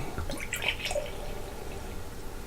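Beer, an Evil Twin Brewing 2014 Christmas Eve at a New York City Hotel, pours from a freshly opened bottle into a glass, a steady liquid splash and trickle close by with no talking.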